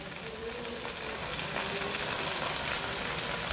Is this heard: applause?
no